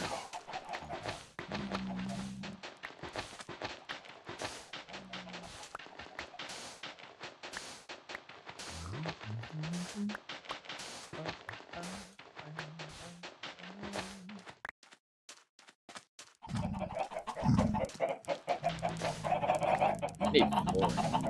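Chickens in the Minecraft video game cluck in short, repeated bursts at moderate loudness, scattered through a stretch of game audio and background sound.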